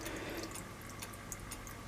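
Steady trickling, splashing water flow from a Seachem Tidal 35 aquarium filter, close and continuous, with faint ticking drips scattered through it.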